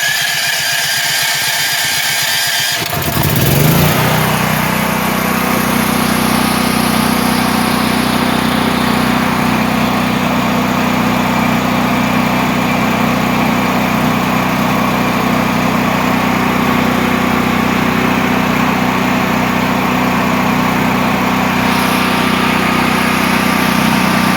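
A Duramax 8500 dual fuel portable generator engine sputters, then catches after a few seconds and runs at a loud, steady, continuous drone nearby. No talking.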